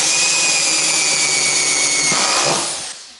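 A power drill drives long screws through creaky wooden floorboards to fix them, with a loud, sustained high whine close to the mic that drops in pitch toward the end and then winds down to a stop.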